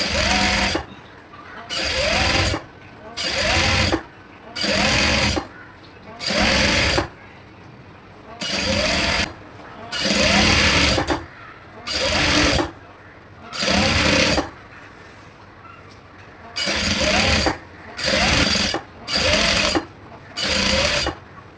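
Sewing machine stitching folded fabric for an umbrella frock, running in repeated short bursts of about a second each with brief pauses between, close and steady, with no talk.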